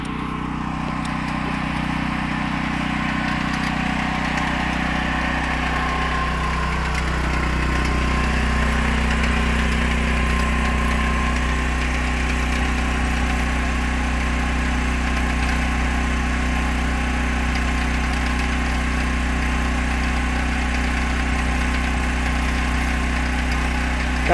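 A Duromax XP10000e generator runs inside a homemade enclosure, a steady low engine drone with a faint vibration hum that holds even and unbroken throughout, no voices over it.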